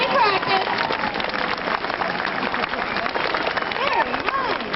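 A crowd at a Kings Dominion amusement park show practises applause: dense, sustained clapping from many hands fills the whole stretch at steady volume, with a few cheers and whistles mixed in.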